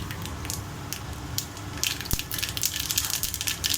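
Mustard seeds and cumin dropped into hot oil in a pan while cooking pappu chaaru, giving a close, steady sizzle with faint popping and crackling that grows busier toward the end.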